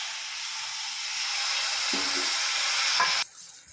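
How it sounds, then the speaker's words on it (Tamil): Sugar syrup for badusha bubbles and sizzles steadily in a pan, a soft hissing boil with a clink and a brief stir before it quiets. "சர்க்கரை வந்து நல்லா கரைஞ்சி கொதிக்குது."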